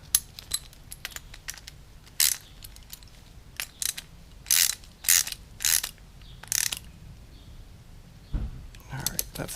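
Quarter-inch drive ratchet with an 11mm socket threading a bolt in while building a press on a Tecumseh 10hp HM100 engine, giving bursts of close, crisp clicking separated by short pauses, with no talking.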